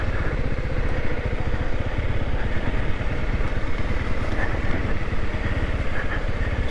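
Motorcycle engine under way on a forest road, a close, steady thrumming pulse with mechanical clatter continuing throughout, no voices.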